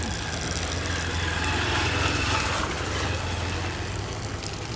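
The Sentosa cable car in Singapore begins moving upward with a steady, broad mechanical hum and low rumble, continuous and fairly even in level throughout.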